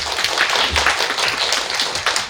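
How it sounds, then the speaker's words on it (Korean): Audience applause at a creative-writing talk concert featuring a novelist and a poet: a dense, steady wash of many hands clapping close by, sustained at even loudness throughout with no speech over it. "이게 걸어서 박수를 받네요"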